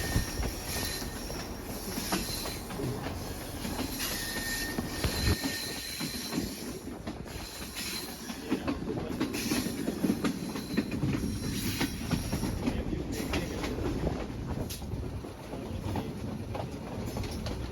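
Awam Express passenger train rolling along a railway track beside a road among hills, with continuous rattling wheels, rhythmic clacks and occasional squeals, heard from on board at moderate level.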